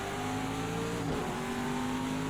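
Engine of a GT race car in a racing game at Sonoma Raceway, steady loud drone with a brief dip around a turn before the throttle picks up again, alone without talk.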